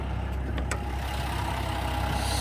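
A 2025 RAM 1500 Limited's Hurricane twin-turbo inline-6 idles, a smooth, quiet, steady low hum with faint brief ticks near the start and no voices.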